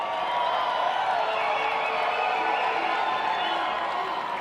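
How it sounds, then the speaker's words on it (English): A large crowd at a presidential inauguration ceremony cheers and applauds, a dense, continuous wash of noise that sounds fairly distant and holds steady throughout. "Hopefully you can hear that applause."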